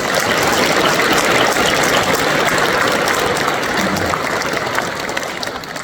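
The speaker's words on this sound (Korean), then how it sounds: "목사님 나오실 때 크게 박수로 환영하겠습니다" A church congregation applauds loudly to welcome a pastor, the dense, sustained clapping filling the room before easing slightly toward the end.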